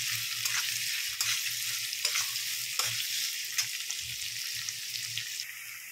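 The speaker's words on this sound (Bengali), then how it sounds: "পেঁয়াজটা বেশ লাল লাল করে ভাজা হয়ে এসছে" Chopped onions fry in hot oil in a pan, giving a steady close sizzle broken by a few sharp spatula scrapes and clinks as they are stirred, with no talking.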